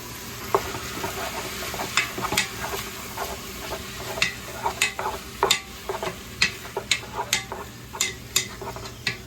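Turkey chili spice paste sizzles in a pan, a steady frying hiss broken by sharp ticks and scrapes of a utensil stirring, with no talking.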